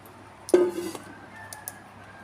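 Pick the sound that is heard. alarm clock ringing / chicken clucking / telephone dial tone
chicken clucking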